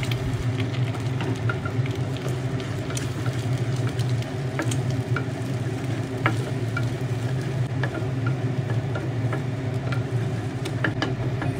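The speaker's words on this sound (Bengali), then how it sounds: "ডিমের মধ্যে সামান্য লবণ দিয়ে ভালোভাবে নেড়েচেড়ে ছুরি ছুরি করে ডিম ভেজে নেব।" Salted eggs sizzle and crackle steadily in a hot pan while being stirred and scrambled into crumbly bits, a close, continuous frying hiss with occasional scraping taps and no voices.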